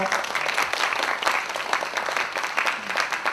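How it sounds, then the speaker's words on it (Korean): Applause welcoming a student presenter at a university admissions talk, a continuous crackle of many hands clapping at moderate loudness, steady throughout without speech over it. "박수로 맞아주십시오."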